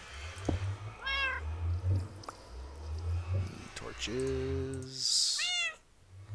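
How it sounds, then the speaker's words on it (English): Cats meow repeatedly in the Minecraft video game. Several drawn-out meows come at irregular intervals, moderately loud and mixed with a man's speech and the game's background sounds. "Those cats are going to drive me crazy"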